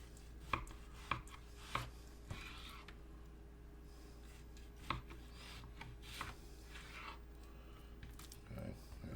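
A knife cutting raw pork chops on a cutting board, giving a few sharp thunks at irregular intervals over faint scraping, against a steady background hum.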